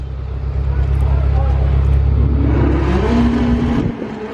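A modified car exhaust revs at a street exhaust battle, a loud, low, steady rumble building and then cutting off, with people talking nearby.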